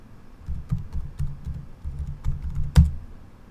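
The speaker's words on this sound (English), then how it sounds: "so I'm gonna type my password here" Password being typed on a computer keyboard, a quick run of close, crisp key clicks in uneven bursts, ending on one sharper, louder keystroke.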